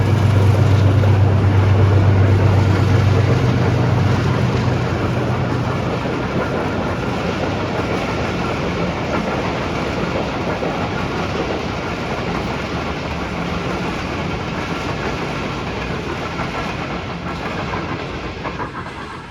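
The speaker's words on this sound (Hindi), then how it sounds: "ट्रेन आ गई दोस्तों, थोड़ी देर के लिए सिलसिले को रोकेंगे और" A train rushes past close by, a loud, continuous rumbling roar with rail clatter that holds steady for nearly twenty seconds and eases only slightly toward the end, with no talking.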